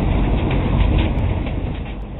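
A freight train rolling along, heard from inside a grated rail car: a loud, constant rumble and rattle of wheels and steel, close and unbroken, with no voices.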